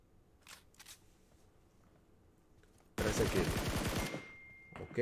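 A bot in a shooter video game fires a loud, sudden burst of rapid automatic gunfire after a quiet stretch, the shots crackling close for about two seconds.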